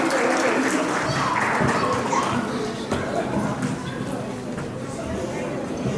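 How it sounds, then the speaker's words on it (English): Audience applause fills a wedding reception hall at a valima, a steady wash of clapping mixed with crowd chatter and children's voices throughout. "Round of applause, please."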